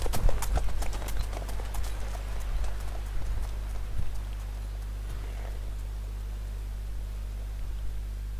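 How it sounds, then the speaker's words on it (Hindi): Horse hooves clip-clop in The Witcher 3 video game as the horse is ridden, a rapid run of sharp hoof strikes at the start thinning to scattered, spaced beats over a steady low game hum. "घोड़ा चल कैसे रहा है भाई"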